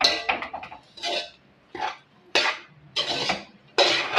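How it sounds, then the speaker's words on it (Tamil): Cooked rice is tossed and mixed in a pan with a spoon, giving about seven short, distinct scraping and clinking strokes in an uneven rhythm, close and clear. "இப்போ இதெல்லாம் மடியாக கலந்து விடுவோம்."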